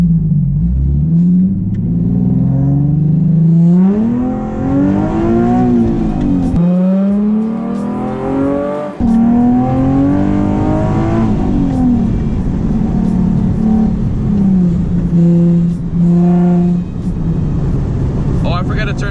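Nissan 370Z engine revving hard through a first gear pull on a street, loud rising and falling roar repeated several times with some tire noise, while someone talks excitedly over it.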